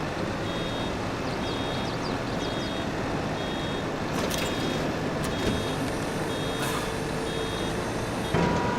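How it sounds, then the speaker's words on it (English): Faint reversing beeps repeat at a steady pace from a vehicle in Farming Simulator 22, set against a loud, constant engine and machinery rumble. "They still have the buzzer, but I find the sound is really, really quiet."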